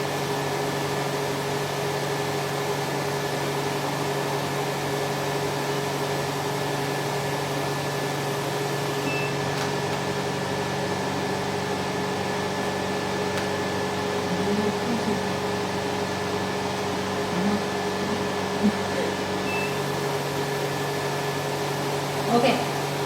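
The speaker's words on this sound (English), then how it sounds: "Normally use 60 to 70 kPa high suction energy to suck. Let the suction energy suck first." A Nubway cryolipolysis body-slimming machine runs its suction at 60 to 70 kPa, giving off a steady, even mechanical hum with a faint airy hiss that holds unchanged throughout, with no talk over it.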